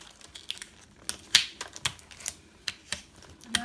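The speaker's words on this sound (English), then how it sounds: "I'm just going to start taping all the sides together" Packing tape is pulled and pressed along the sides of a cardboard box, giving sharp crackling rips and taps in an uneven rhythm, close and fairly loud in a quiet room.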